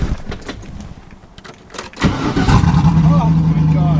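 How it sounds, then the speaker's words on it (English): An LS-swapped Volvo cranking and firing up, a starter whir giving way to a loud, steady V8 idle rumble close by, with someone talking over it. "Let's fire the freaking LS Volvo up"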